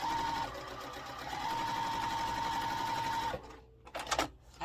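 A sewing machine stitches quilt block pieces for an Arizona sampler block, running in a steady rapid whir with a high tone, then stopping; fabric rustles and small handling clicks follow.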